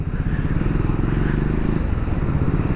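A Triumph Scrambler 400X motorcycle rides through city traffic, its engine holding a steady, loud, continuous rumble throughout with no voices.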